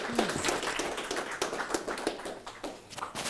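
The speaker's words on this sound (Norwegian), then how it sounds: "Stor applaus til Bjørn." A small audience at a breakfast seminar on solar energy claps for a departing presenter, with scattered, moderately loud individual claps that thin out unevenly.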